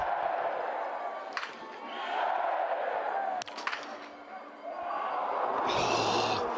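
A large outdoor crowd at a men's biathlon sprint in Oberhof, Germany swells in loud waves of cheering and roaring, with sharp claps and cracks, while a commentator talks over it.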